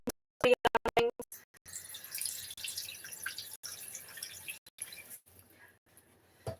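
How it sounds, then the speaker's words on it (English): Hot water is added to a pot of rice on the stove, beginning with a few quick close splashes and drips, then a quieter irregular trickle and sloshing that comes and goes with brief gaps. "I'm going to add some hot water."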